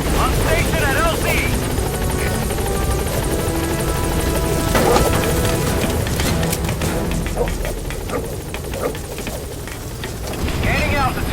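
Pequod transport helicopter in Metal Gear Solid V hovering at a landing zone, a loud continuous rotor roar with dense whirring and rumble, a steady wash that swells slightly near the end.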